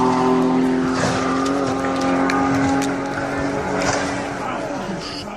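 Car running at speed on the Nurburgring circuit as it jerks off the track, with a sustained engine drone and brief tire scrub; a voice talks over it.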